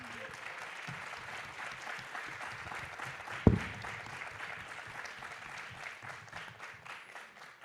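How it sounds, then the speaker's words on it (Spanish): Applause for an author at a book presentation, a faint, steady patter of clapping from a seated audience with one sharp knock partway through. "Un aplauso, por favor, para la autora."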